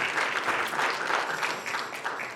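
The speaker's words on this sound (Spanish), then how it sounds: "Así que démosle un fuerte aplauso al Señor." A church congregation claps loudly and continuously in a dense, even wash of applause that fills the whole moment.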